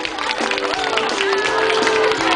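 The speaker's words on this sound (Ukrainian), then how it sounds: "Давайте привітаємо членів журі гучними оплесками." Loud applause greets the jury members at a children's beauty pageant, a dense, sustained wash of clapping from a crowd in a hall, with music playing along underneath.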